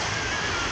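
Ocean waves at the beach make a loud, continuous roaring wash of surf close by, with no talking over it.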